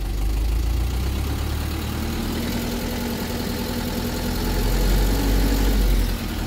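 A 2000 Mitsubishi Fuso FE-SP truck's 4D34 four-cylinder turbo diesel idles at raised idle, a steady low rumble and drone with mild vibration, close and continuous, with no talk.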